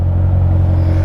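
A 2015 Chevrolet Corvette Z06 3LZ convertible with a seven-speed manual runs close by, giving off a loud, steady, deep engine rumble with a strong low drone throughout. No voices are heard.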